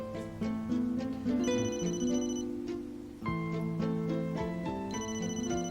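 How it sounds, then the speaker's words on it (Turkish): A mobile phone ringing indoors with a melodic, tonal ringtone, the repeating notes playing clearly and steadily at close range for several seconds, with no talking over it. "benim telefonum çalıyor"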